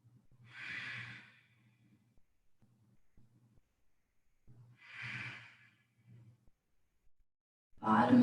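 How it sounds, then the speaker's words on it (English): Two long, slow ujjayi breaths during an Ashtanga yoga primary series, each a soft hissing, ocean-like exhale through a constricted throat, heard up close and spaced several seconds apart over quiet low hum, with a voice starting at the end. "Ujjayi breathing with sound. Powerful breath, victorious breathing."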